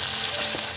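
Vegetables sizzle and fry steadily in a pan while khichdi is being prepared, a close, continuous crackle with no talking over it.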